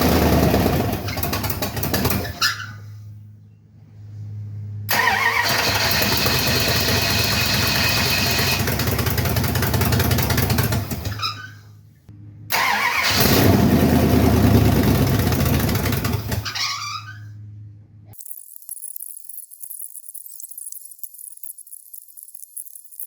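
A 1971 Plymouth Satellite wagon's engine, running on a makeshift fuel tank, fires up and runs loudly, cuts out, restarts and runs again twice, then stops, leaving a thin hiss.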